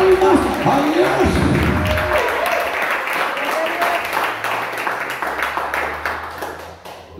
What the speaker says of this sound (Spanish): Todos, démosle palmas a Dios.